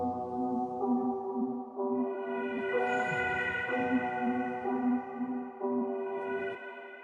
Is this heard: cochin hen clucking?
no